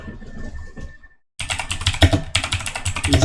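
Rapid clatter of computer keyboard typing at a ham radio station during a PSK31 digital session, close and steady, with a brief pause before the keystrokes resume more densely.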